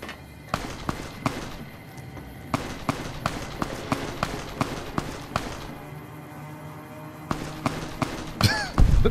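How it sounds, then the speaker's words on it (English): Sharp gunshots in Fallout: New Vegas ring out in a steady run of single cracks at roughly half-second to one-second intervals over a low background rumble, with a louder burst near the end. "I hear a lot of gunshots."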